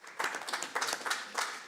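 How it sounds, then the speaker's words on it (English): At a community committee meeting, a small group gives a brief round of applause, a soft, dense patter of hand claps that is moderately close and fairly even. "A round of applause in his absence, please"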